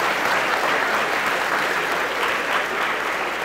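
Dense applause from a lecture audience on a family conflict and communication talk, a steady wash of many hands clapping at even loudness throughout, with no voices over it.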